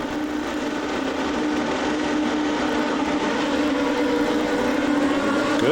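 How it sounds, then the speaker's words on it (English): Loud, steady engine roar that holds a constant droning pitch without letup, like Formula 3000 race cars idling and revving together nearby at the 2002 Hungarian race start. "Up come the revs."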